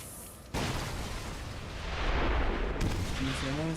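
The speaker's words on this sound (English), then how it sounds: "I didn't get to see the explosions." Explosions and artillery fire in a video game sound as a sudden loud blast, followed by sustained rumbling and crackling. A faint voice comes near the end.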